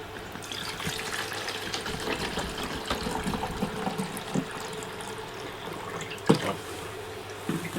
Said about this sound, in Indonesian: Nah, ini kita tuang airnya.